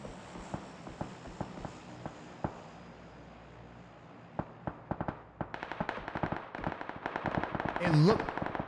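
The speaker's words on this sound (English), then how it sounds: "And look, I hear a lot of shots banging out." Scattered gunshots crack out in PUBG, sparse and distant at first, then thickening into rapid bursts of fire, with a commentator's voice and a short rising tone near the end.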